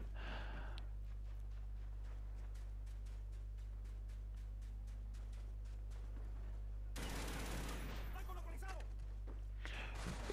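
Gunfire in a Gun Game round of a shooter video game, heard as a quick series of sharp, faint shots, then a louder burst of noise near the end, under a steady low hum.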